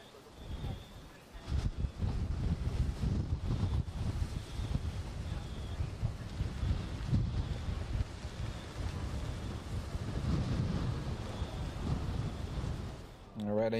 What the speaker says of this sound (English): you could definitely hear those winds whipping